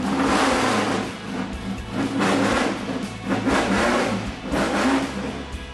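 A Lotus Type 38 Indy car engine being restored revs loudly and close, a harsh rasping roar that swells and eases in repeated blips over a steady throbbing idle.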